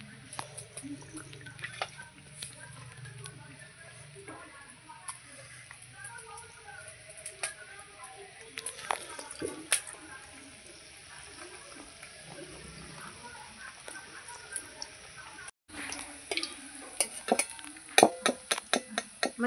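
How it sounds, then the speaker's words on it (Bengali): Eggplant slices coated in gram flour batter fry in oil in a wok with a soft bubbling sizzle, plus scattered clinks and sharper splattering crackles that grow busier toward the end. "এবার বেগুনি ভেজে নেবো একটা একটা করে।"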